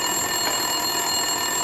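A desk telephone rings in the video game Max Payne 2, a steady electronic trill with bright harmonic tones filling the short span, loud and continuous with no voices.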